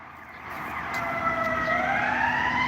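Police car sirens wail through a city, rising and sweeping in pitch as they draw nearer and grow louder, with no talk over them.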